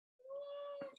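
A cat lets out one long, drawn-out meow close by, steady in pitch and ending with a brief rising catch, with no voices over it.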